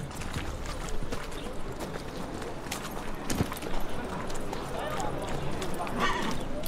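Horse hooves clip-clop at a galloping pace in The Witcher 3 video game, a steady rhythm running throughout under louder talk.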